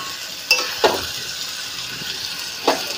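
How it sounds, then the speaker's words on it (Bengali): Chicken being sautéed in a pan for curry after its excess water has cooked down: a soft continuous sizzle with three brief scrapes of a stirring spoon, close by and with no voices. "চলো কষিয়ে নিই মাংসটা"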